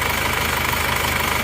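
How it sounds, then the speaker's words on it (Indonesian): A rebuilt Isuzu Panther car engine, newly reinstalled after repairs for a knocking fault, idles close by with a steady, even low rumble and a regular pulse, running alone without voices. "Ini mesinnya sudah hidup ya. Alhamdulillah mesinnya sudah halus, tidak kasar."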